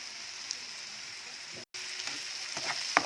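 Onions, salted and now with garlic added, sizzle in mustard oil in a pan, a soft steady crackling hiss with a brief break and a few light clinks toward the end.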